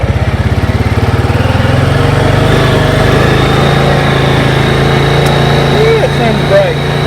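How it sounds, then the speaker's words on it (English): A Honda Rubicon 500 ATV fitted with a brand-new carburetor runs close by, its engine chugging steadily at first and then settling into a loud, even idle that keeps going. "I'd let off the gas like this, it should spit and backfire and shut off."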